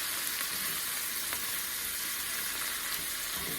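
Ham and pineapple fried rice with green onion stir-frying in a pan, a steady dense sizzle running without pause and close by, no voices.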